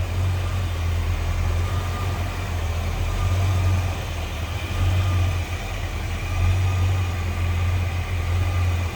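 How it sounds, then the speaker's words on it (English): A 1989 Ford Mustang LX 5.0 convertible's V8 idles steadily at close range, a continuous low rumble with a slight periodic swell in its throb and no voices. "Nice, clean, tidy engine bay. All right, I'm gonna shut that down."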